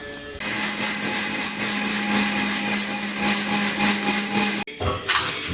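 A mixer grinder powdering ingredients for pottukadala kurma, a loud, steady whirring roar running for several seconds before cutting off abruptly, then a brief restart.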